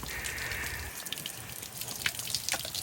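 Water trickles from a leaking truck cap like a small waterfall, giving a steady faint splash with scattered drips and patters. No one speaks.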